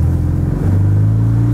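Porsche 718 Boxster GTS, a 2019 rear-wheel-drive sports car, accelerating out of a bend on the Nordschleife, its engine a loud, steady low rumble that settles into a sustained droning note.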